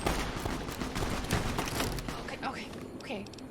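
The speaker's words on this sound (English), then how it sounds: "What, we're already shooting?" Rapid bursts of gunfire and weapon noise in Fallout: New Vegas crackle steadily for a few seconds, mixed in with someone talking over the action.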